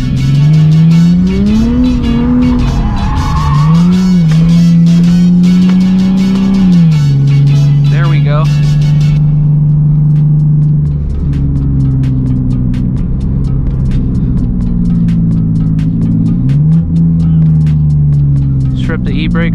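A 2JZ-engined Lexus IS300 drifts on a wet street, heard from inside the car: a loud, continuous engine drone that revs up, dips and climbs again, with throttle swells running through the whole run.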